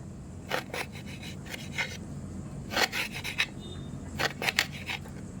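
Raw beetroot sliced thin for chips, heard as short close rasping cuts in uneven bursts over a steady low background hum, with no talk.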